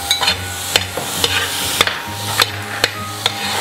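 Curry leaves fry in hot oil in a pan, a continuous sizzle broken by regular spoon scrapes and clinks against the pan as they are stirred, close and loud.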